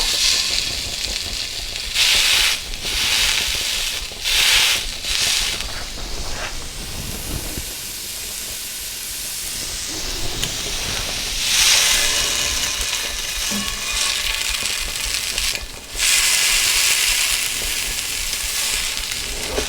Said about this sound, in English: we've got our pan heated up. We're gonna lower it down just enough. As you can see, the smoke is coming up. And we're gonna sear these bad boys up